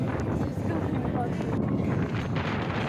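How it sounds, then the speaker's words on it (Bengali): Strong wind gusts across a hilltop at Kingsford Smith Ulm Reserve near Melbourne, a loud continuous roar buffeting the microphone from start to finish, with possible faint voices beneath. "বাতাসের শব্দ"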